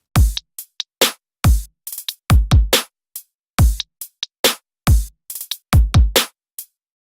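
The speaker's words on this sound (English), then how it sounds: "My first drum loop sounds like this." Dry drum loop with a crisp, unreverberated snare and punchy kick, short tight hits in a repeating groove with clean silence between strikes, close and loud.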